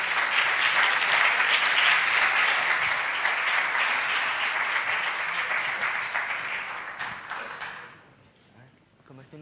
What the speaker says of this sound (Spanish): un fuerte aplauso, a ver.